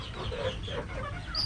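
A Satria Sinekti hen gives a short run of soft, close clucks over a low background rumble.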